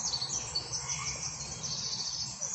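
Bird chirps and insect-like calls drift through a quiet outdoor woodland ambience in the Blair Witch survival game on Xbox One, faint and continuous with a soft low rumble underneath.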